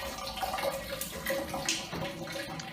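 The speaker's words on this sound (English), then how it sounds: "Excellent pressure from the shower" A shower running with strong water pressure in a commercial interior, a steady close rush of splashing water with no voices over it.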